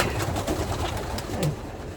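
Racing pigeons at a one-loft race facility coo softly and repeatedly, the low rolling calls overlapping amid a busy loft background.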